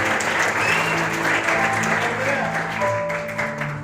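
Church congregation at a Sunday worship service claps together in a steady, lively round of applause, with musical tones sustained underneath.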